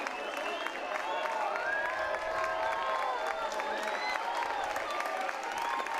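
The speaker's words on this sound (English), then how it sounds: "This Pirate crowd comes to life here in the 5th" A college baseball crowd of East Carolina Pirates fans cheers and claps at a night game against South Florida, a sustained roar of distant voices and applause under a commentator's voice.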